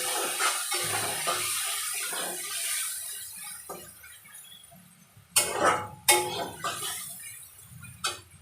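Water is poured into a tomato gravy as it cooks, giving a steady splashing rush, followed by a few louder sloshes and clinks near the end.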